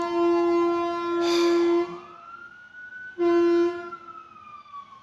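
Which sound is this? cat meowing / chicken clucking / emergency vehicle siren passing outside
emergency vehicle siren passing outside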